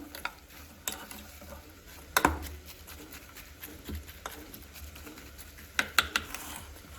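A spoon stirs soya chunk biryani masala in a pan over a soft, steady sizzle, with scattered clicks and a few louder knocks against the metal. Nobody speaks.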